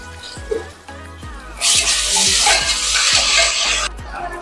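Onions with ginger-garlic paste fry in a pan for spiced rice: a bright, hissing sizzle flares up midway and holds steady for about two seconds over soft, repeated low knocks, then cuts off abruptly.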